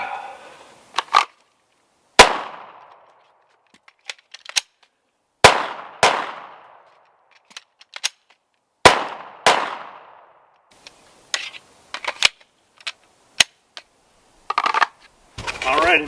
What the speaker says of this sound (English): I'm going to send a few rounds down through the G17 here